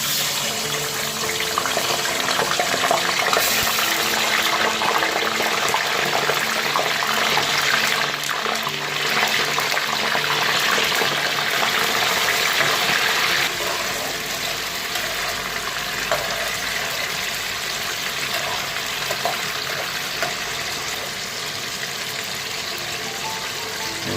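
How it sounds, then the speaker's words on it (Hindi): Chicken frying in a karahi of hot oil gives a steady, loud, hissing wash of sizzle that runs unbroken and fairly close, with no talking over it. "तो चिकन को हम ब्राउन होने तक ऑयल के अंदर फ्राई करेंगे।"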